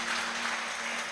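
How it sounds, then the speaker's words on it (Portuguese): A church congregation applauds in a steady wash of clapping, dense and continuous across the short moment, with a low steady hum underneath. "Palmas alegres para Jesus,"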